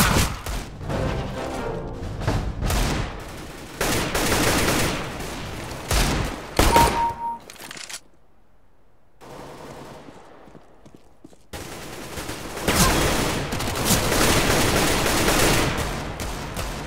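Dense Counter-Strike: Global Offensive deathmatch gunfire, with rapid rifle bursts and overlapping shots rattling close and loud. A brief quiet gap falls in the middle before heavy firing resumes.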